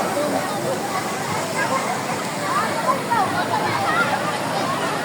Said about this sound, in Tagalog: Sabsaban Falls dito sa may Brooks Point, Palawan.